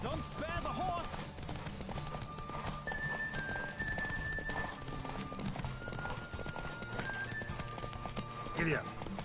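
Hooves clip-clop steadily through a busy soundscape in The Witcher 3: Wild Hunt, with a horse snorting near the end while voices talk over the action.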